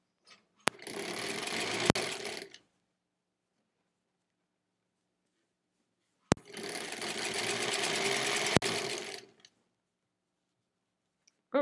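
Two long, even bursts from a sewing machine joining quilt blocks, each lasting a couple of seconds and split by silence, with sharp clicks at the start and end of each run and no speech.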